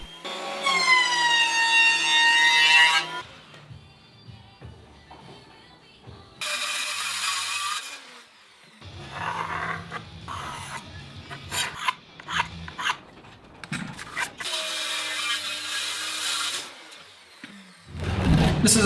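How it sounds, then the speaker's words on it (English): A thickness planer feeds a wood board for a stool top, roaring loudly in several long passes of a few seconds each, with clunks, knocks and quieter handling sounds between runs. "I could run it through the thickness planer a few times"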